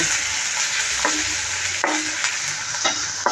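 Chopped onion sautéing in hot oil with mustard seeds in a pan, a steady close sizzle broken by a few distinct spatula scrapes and knocks against the pan as it is stirred.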